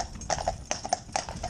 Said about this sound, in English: that bit of gravel that horse was standing on, you know, just makes them jump up a bit